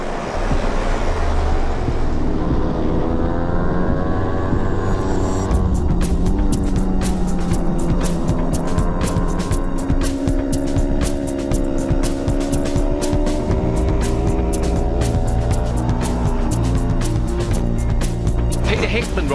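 Racing motorcycles roar off the start of the North West 200 road race, a loud dense rising howl of many engines, with a commentator talking over it.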